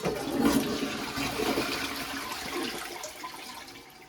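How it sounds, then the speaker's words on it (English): A Glacier Bay Power Flush toilet flushes with a loud, close rush of water that swirls and drains steadily before tapering off as the bowl refills, with no talking. "We'll give it a flush and see what happens."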